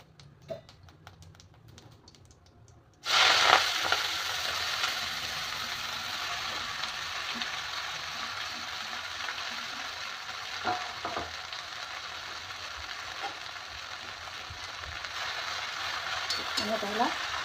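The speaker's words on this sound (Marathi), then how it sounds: "आता तेल गरम झालेलं आहे आणि त्यामध्ये जिरे टाकत आहे मी." After a few quiet seconds, cumin seeds hit hot oil and a loud, sudden sizzle bursts up, then holds as a steady crackling hiss with faint stirring taps.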